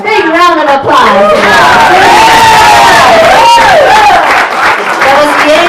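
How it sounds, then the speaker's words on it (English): A gala audience breaks into loud applause and cheering with whoops and shouts, close and continuous, while a voice rings out over the crowd throughout. "One more big round of applause."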